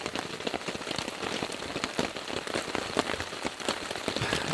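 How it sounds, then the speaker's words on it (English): Rain patters steadily on a tent tarp in an outdoor camp, a dense spread of close, crackling drops striking the fabric without a break for several seconds, no voices. "It's pretty cool being under the tarp in the rain."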